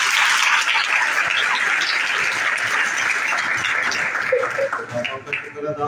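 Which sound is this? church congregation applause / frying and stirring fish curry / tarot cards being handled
church congregation applause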